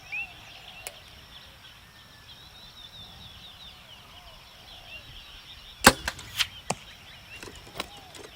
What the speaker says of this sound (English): I'm gonna try to shoot 6 arrows.